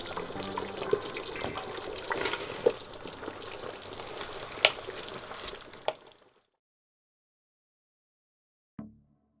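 Cleaned, drained rice is poured into a pot for Nigerian jollof rice, giving a steady close hiss with a few sharper clicks for about six seconds, then silence and one brief soft knock.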